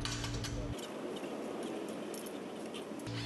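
A fastener tightened on a bracket for a Polaris RZR skid plate install gives close, rapid ratcheting clicks that run steadily for a few seconds with no voices.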